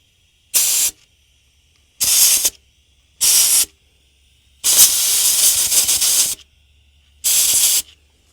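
Five sharp bursts from a spray can blasted at a hornet's nest during work on a V12 Detroit Diesel engine, the fourth burst much longer, each loud and close with silent gaps between.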